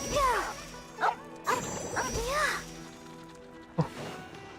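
A dog barks in the video game Genshin Impact, several sharp, yelping barks in quick bursts, fairly close, with a few calls tapering into whimpers.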